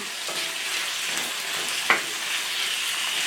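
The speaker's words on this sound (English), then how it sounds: "Now we're going to add our chicken to this, our chicken tenders." Chicken tenders brown in a pan for a stir fry with udon and vegetables, making a steady, close sizzle with a single sharp clack of a utensil partway through.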